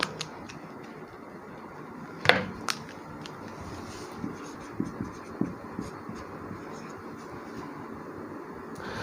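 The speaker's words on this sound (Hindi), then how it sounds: "ठीक है, मैं लिख रहा हूँ।" Chalk or marker writing on a board during a lecture in a room, with scattered taps and scratchy strokes over a steady background hum.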